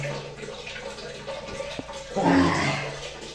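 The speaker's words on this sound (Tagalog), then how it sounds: "malakas ang tubig" Water runs steadily with a rushing hiss that grows stronger near the end, with faint background noise.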